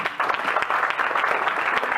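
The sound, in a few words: audience applause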